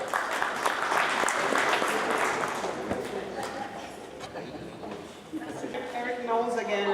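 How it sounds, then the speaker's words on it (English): Applause from a luncheon audience for a business panel, moderate clapping that swells early and tapers off, with a voice emerging near the end. "Let's give our panelists a round of applause."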